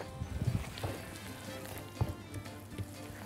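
Mustard-mayonnaise sauce with green onion being stirred in a hot pan, giving a soft steady sizzle with a few louder spoon scrapes and clinks near the start and at intervals.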